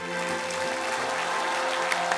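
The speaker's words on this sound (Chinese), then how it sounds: "我给他掌声。" An audience on a game-show stage applauds a contestant's performance, a sustained wash of clapping at moderate volume, set against a faint tonal backdrop.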